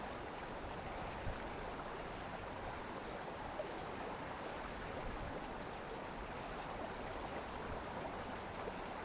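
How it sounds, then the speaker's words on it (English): A river flows from a waterfall at Yosemite National Park, a faint, steady broadband rush of moving water heard alone without pauses. "here's the view of the river flowing from the waterfall at Yosemite National Park"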